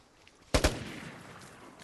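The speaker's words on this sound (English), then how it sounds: "I'm trying to fight a guy that's got a light machine gun" A short burst from a light machine gun in a video game: two or three sharp, close shots in quick succession, then a decaying echo over quiet background.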